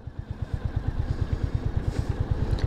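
A 350cc motorcycle engine pulling on the road, a steady, close single-cylinder thump in an even rapid rhythm that quickens slightly as it gains speed, with no talk.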